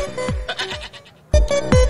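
A goat bleats at the Shahpur livestock market in Lahore during the Qurbani season, loud and close. Two quavering calls are split by a short pause, each with harmonics falling away at the end.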